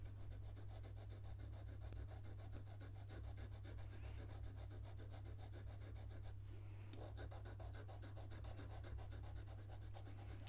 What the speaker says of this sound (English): And I'm using the side of the pencil.